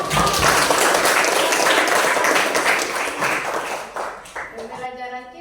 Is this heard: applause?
yes